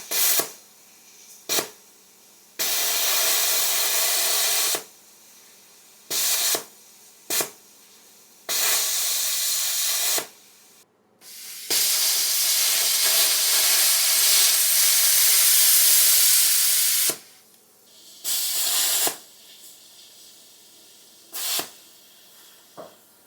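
An Arccaptain Mig205 welder's plasma cutter, fed by a compressor, hissing loudly in on-off bursts of air, with one long sustained blast in the middle and shorter pulses around it, alone with no talking.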